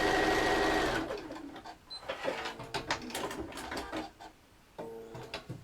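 A sewing machine stitching a quilt block: steady fast motor whir at first, then a stop-start run of clicking, thumping stitches with short pauses as the fabric is guided along.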